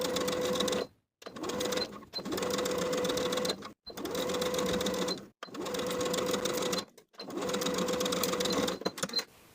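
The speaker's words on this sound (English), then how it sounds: "Then we can sew this single layer of the bias tape to the neckline with a 1/2 inch seam allowance." Sewing machine stitching a single layer of bias tape onto a dress neckline, running in five bursts of about one to two seconds each with brief pauses between, close and steady.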